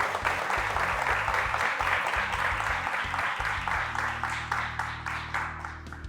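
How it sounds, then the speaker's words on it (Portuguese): Applause for a visiting bodybuilder being introduced at a gym training course, a steady wash of clapping with sustained low music underneath that becomes clearer as the clapping thins toward the end. "Uma salva de palmas para o James."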